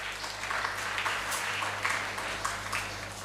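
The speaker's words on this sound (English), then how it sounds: "Can we have a big round of applause for all of you as well?" A crowd of event participants applauding indoors, a dense continuous clapping that swells in bursts and keeps going steadily, fairly soft and heard from a middle distance with no talk over it.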